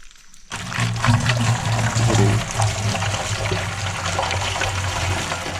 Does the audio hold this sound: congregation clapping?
no